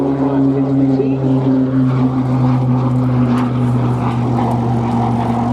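A Tucano turboprop trainer flies an airshow display at Duxford, UK, its propeller engine droning loudly and steadily with a strong low hum and no break.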